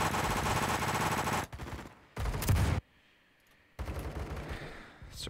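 BFG-50 anti-materiel rifle firing .50 BMG rounds in the video game Phantom Forces, heavy booming shots in loud bursts separated by short silent gaps, close and dominant.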